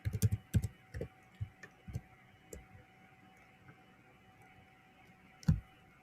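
Keys clack on a computer keyboard in a quick burst of typing at the start, then a few scattered taps and one last firm keystroke, close and fairly quiet with no talking.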